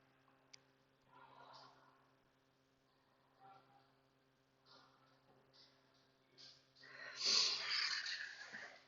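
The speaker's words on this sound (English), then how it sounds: "Let's take about 2 breaths in our child's pose." Slow breathing of a person resting in a yoga child's pose: soft, airy breaths rise and fall at long intervals against a quiet room, the last exhale fuller and louder than the rest.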